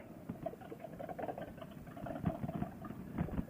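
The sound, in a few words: vehicle engine exhaust idling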